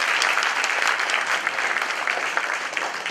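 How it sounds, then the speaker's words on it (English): An audience at a KAIST event celebrating the Turkish community applauds in a steady, dense wash of clapping that fills the room without pause. "please give them a round big applause to all the Turkish community"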